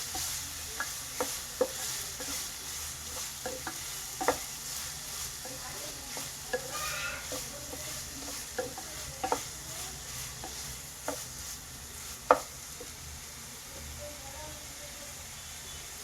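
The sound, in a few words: onions frying in a pan for aloo palak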